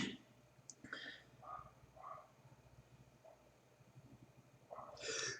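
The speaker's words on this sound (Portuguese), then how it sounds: "Ai, espirrei." A person sneezes in a quiet room during a physics lesson, with a brief breathy burst at the start and another sharp sneeze near the end, both faint and close.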